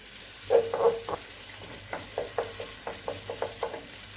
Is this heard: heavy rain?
no